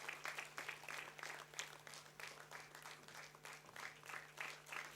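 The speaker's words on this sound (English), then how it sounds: "keep the applause going" Steady applause from a university convocation audience, many hands clapping evenly and continuously, heard from a little distance.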